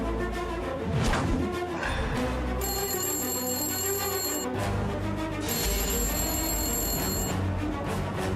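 A mobile phone rings nearby with a loud, steady electronic tone in two bursts separated by a short pause, over a background of room noise and a music score.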